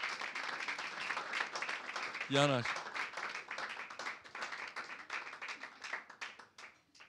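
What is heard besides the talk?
applause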